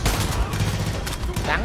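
Gunfire from the shooter game Far Cry 5 cracks out in a dense, rapid string of shots across a brief moment, loud and close, under a player's talk.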